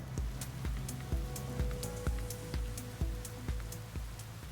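Heavy rain drums steadily on a car in the DiRT Rally 2.0 racing game, with dense patter and repeated low thumps under the downpour, close and continuous with no talk.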